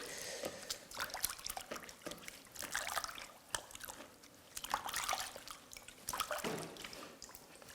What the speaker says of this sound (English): So I'm going to start by cleaning my arms.